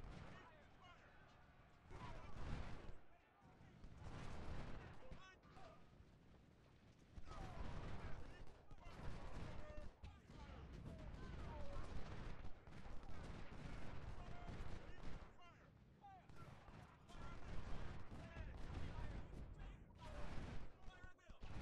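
Infantry volleys crackle in the Civil War strategy game Ultimate General, set at Gettysburg, with repeated bursts of musket fire and battle noise under continuous spoken commentary.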